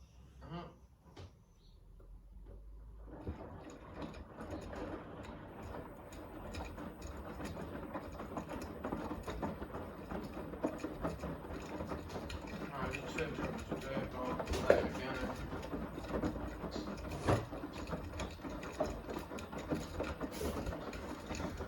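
A Beko WTK104121A washing machine runs a Cottons 60° Fast+ cycle, with a continuous low mechanical churn and hum broken by occasional knocks and clunks, close and moderately loud.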